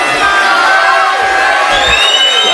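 A large congregation cheers, whoops and shouts loudly at a Sabbath service at The Great House of Yahweh in Abilene, a sustained roar with high voices rising above it throughout.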